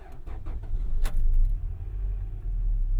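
A 1998 Acura Integra Type R on the road, heard from inside the cabin as a steady low engine and road rumble, with a brief rattling clatter about one second in.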